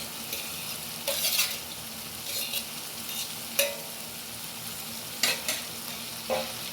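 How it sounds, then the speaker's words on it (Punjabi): Tomato and capsicum sizzling in a hot pan while being stirred, a steady close frying hiss broken by several scraping strokes of a spoon against the pan, with no talking. "ਆਪਣਾ ਟੋਮੈਟੋ ਕੁੱਕ ਹੋਣ ਲੱਗ ਗਿਆ ਤੇ ਆਪਾਂ ਹੁਣ ਪਾ ਦਾਂਗੇ ਵਿੱਚ ਸ਼ਿਮਲਾ ਮਿਰਚ"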